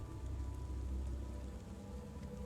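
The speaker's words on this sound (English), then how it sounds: "It sounds like it's raining." Steady rain falls faintly and evenly throughout, a soft continuous patter with a low rumbling undertone and no voices.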